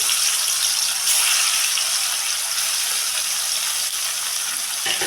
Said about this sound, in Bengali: এখন আমি পনিরটাকে ভেজে নেব